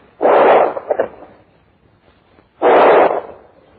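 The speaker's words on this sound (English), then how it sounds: "his words punctuated by the staccato rhythm of gunfire" Two loud, heavy gunshot blasts ring out a couple of seconds apart, each with a short rumbling tail, in an old, muffled 1945 recording from the Liberation of Paris.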